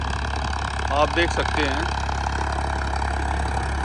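A Farmtrac 60 tractor's diesel engine idles at a steady, even drone throughout, with someone speaking briefly over it near the start.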